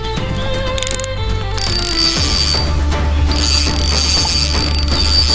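The drag on a carp fishing reel buzzes as it is loosened, a steady, loud, close mechanical ratcheting whir with shifting ringing tones that runs continuously throughout.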